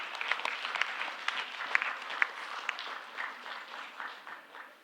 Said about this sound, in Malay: tolong berikan tepukan yang gemuruh adik-adik